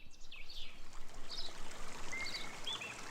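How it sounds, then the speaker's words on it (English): Steady flowing water, like a stream, with a few bird chirps rising above it, fairly close and continuous, outside a shelter house. "the bird song, the sound of water"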